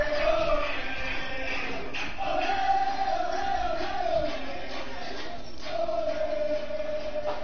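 Sold-out arena crowd in a wrestling video game, a continuous roar of cheering with rising chants and shouts that swell and fade, loud and fairly close.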